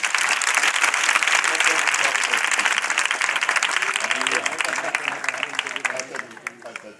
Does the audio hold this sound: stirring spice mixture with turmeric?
no